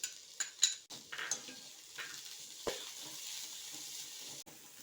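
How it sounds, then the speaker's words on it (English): Capsicum is sautéed quickly in a pan over high heat, a soft steady sizzle broken by a few sharp clinks and scrapes of a spatula against the metal. "Then add vegetables and saute it quickly."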